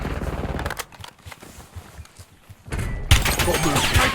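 Gunfire in the shooter game Warzone 2.0 with the Prime TAQ 56 rifle, dense rapid automatic bursts close and loud, easing into scattered shots before a heavy renewed barrage; in-game voice callouts sound over the shooting.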